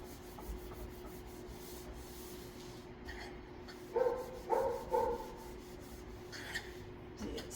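A dog barks a few times, faint and distant, in a short cluster of three or four barks over a quiet background of low rubbing noise.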